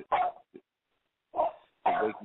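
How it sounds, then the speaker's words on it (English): Indoors, a dog gives a few short, close barks with yips, spaced by brief silences and rising toward the end. "dog is having a dog minute"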